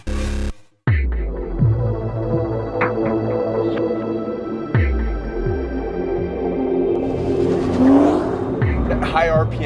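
A 2015 Chevrolet Corvette Z06 engine revs hard in repeated surges, climbing to high RPM and dropping back, loud and close, with a person talking over it.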